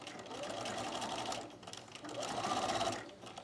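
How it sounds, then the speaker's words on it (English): A sewing machine stitches bias tape along the edge of a fabric mask in two close runs of fast, steady whirring, with a short pause between them. "And then I will continue to sew all the way to the other end of the bias tape, keeping the two folded edges aligned."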